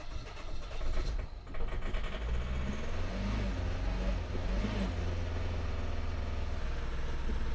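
Car engine running right after a pipe is refitted, held at raised revs so it won't die; a fairly quiet, close engine with a steady low drone and a short swell in revs partway through, no speech.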